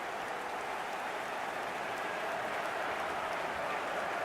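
A stadium crowd in the eFootball 2025 video game roars after a goal, a dense, steady wash of cheering at moderate level with no clear individual voices.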